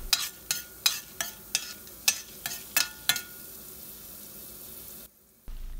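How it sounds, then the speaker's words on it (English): Urad and chana dal frying in a pan, with a soft steady sizzle broken by about ten sharp, regular scrapes of a spoon stirring, then a brief quiet gap before the low hiss returns. "Fry these dals until it turns light brown."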